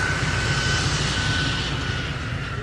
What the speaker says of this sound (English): it's a loud blower, but it's a fantastic blower, and you can see how powerful it is